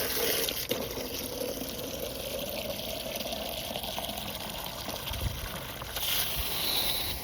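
Water gushing under pressure into a chick waterer, a steady rushing fill that runs continuously and fairly close, with no talking.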